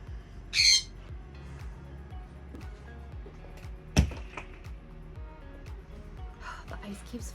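A single loud, harsh bird squawk rings out near the start over steady background speech, with a sharp knock-like thud a few seconds later, indoors in a house with snow-covered trees outside.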